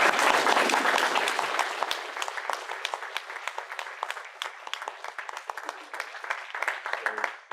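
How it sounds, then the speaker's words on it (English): At a DrupalCamp Atlanta 2016 keynote, the room's applause starts loud and full, then thins into scattered distinct claps that keep going to the end. "let's give a round of applause"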